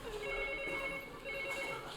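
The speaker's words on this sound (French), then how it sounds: "Téléphone. J'entends." A telephone rings with a steady continuous electronic tone through a stage comedy sketch, moderately loud over a faint room background.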